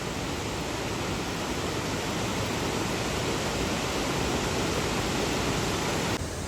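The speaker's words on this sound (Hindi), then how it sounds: "और ये है यहाँ का वाटरफॉल।" A mountain waterfall on the trek from Pithoragarh toward Gunji, a loud, dense, steady rush of falling water filling the whole clip without voices.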